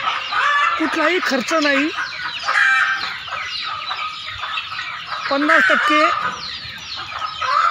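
Desi village hens cluck and squawk close by in a repeated, busy chorus, with a person talking over the birds.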